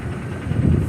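A truck engine runs with a low steady rumble, close and continuous for a brief moment with no talk over it.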